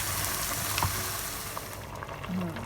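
Black cabbage and sauce for Georgian pancarı cook in a pan with a steady, close sizzle and frying hiss, while stirring adds scraping and clattering touches throughout.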